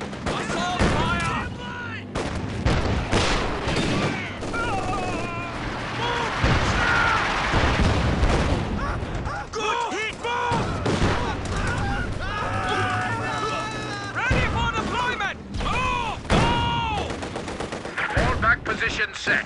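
Dense gunfire and artillery blasts from the strategy game Company of Heroes 2, with rattling machine-gun bursts and heavy explosions over a continuous battle din, while soldier voices shout across it.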